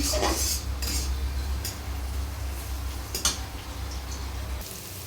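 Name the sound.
bay leaves, cardamom and cinnamon frying in oil in a wok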